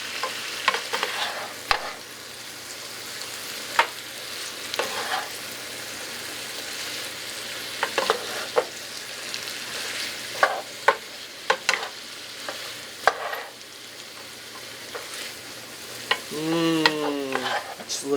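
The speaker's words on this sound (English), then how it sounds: "And we'll put in the bacon." Bacon and potatoes sizzling and frying in a pan, a low steady sizzle punctuated by repeated scraping and clattering stirs, with a short squeaky sound near the end.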